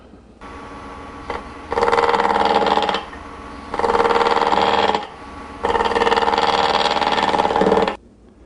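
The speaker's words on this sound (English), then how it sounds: "To make this cut, I'm going to use a wide skew chisel and just carefully work this corner in a little bit, just to start the curve." Wood lathe turning a square leg blank while a wide skew chisel rounds over its corner: a steady motor hum with three loud bursts of cutting, each lasting about a second or more, separated by quieter spinning, close by and with no talk.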